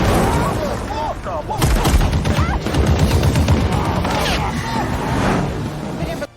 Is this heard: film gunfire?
yes